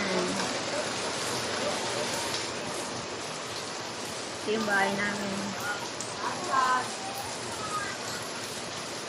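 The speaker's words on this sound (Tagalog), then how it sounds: "Grabe ulan." Heavy rain pours down in a continuous dense roar close by, while a person speaks briefly over it.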